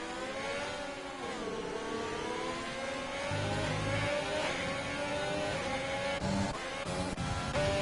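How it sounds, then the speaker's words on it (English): Formula race cars in a racing video game howl past, engines revving up and down through gear changes with whining pitch sweeps, continuous and fairly close, with no voices over them. "To the final lap of the race, Flash leading, going to take the win today"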